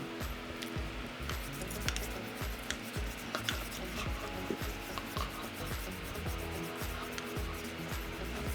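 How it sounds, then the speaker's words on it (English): A plastic tongue cleaner scrapes across the tongue in quick, repeated close-up strokes, a steady raspy rubbing rhythm with small wet clicks, heard alone without speech. "Then I take my tongue cleaner."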